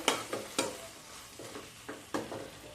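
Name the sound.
stirring and sautéing drumstick potato curry in a pan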